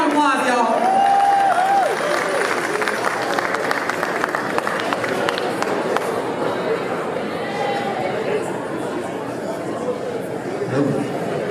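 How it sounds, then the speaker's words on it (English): An outdoor audience at an Africa Day celebration claps and cheers for an Egyptian belly dancer, a dense sustained wash of applause and crowd chatter running throughout at moderate loudness. "Give a round of applause, y'all."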